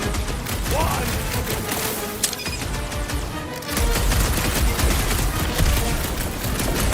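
Gunfire in the video game Guardians of the Galaxy: rapid, continuous bursts of shots and impacts fill the scene, loud and near, with a brief lull before the firing swells again.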